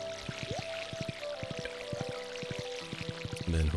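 Crops being watered in Stardew Valley, heard as a pouring, splashing watering-can effect repeated in quick rhythmic bursts over light background music, ending in a louder splash.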